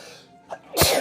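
A single close, sharp human sneeze, with a brief inhaled catch just before the explosive burst.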